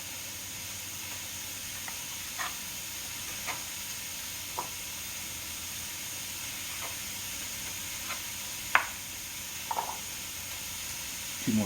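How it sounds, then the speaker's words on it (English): Beef simmering in a pan for a Monday night dinner gives a steady low sizzle and hiss throughout, with a few faint stirring clicks and taps scattered over it and no voices. "We're gonna add this beef to the mix. And we're gonna let that simmer until the meat gets thoroughly cooked."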